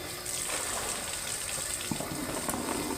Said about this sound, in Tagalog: Nagkasig tubig diri, day.